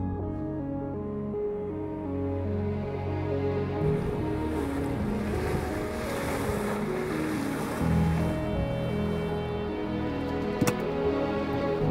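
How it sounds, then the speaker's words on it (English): Strong wind at Imperial Geyser in Yellowstone National Park, a steady roaring gust buffeting the microphone with rushing, surf-like noise throughout, loud and continuous with no talking. "It's obviously very, very windy."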